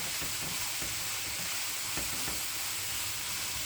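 Yellow squash and broccoli stir-frying in a skillet with lemon garlic chicken, a dense, steady hiss and sizzle with occasional soft crackles, close and continuous without talk.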